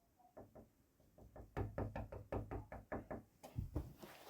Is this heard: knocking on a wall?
yes